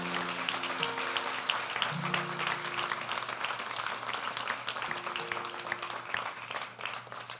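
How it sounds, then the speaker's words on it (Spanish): A church congregation applauds during a worship service, steady massed clapping with sustained music tones underneath and faint voices mixed in, gradually tapering near the end. "Y denle un aplauso al Señor"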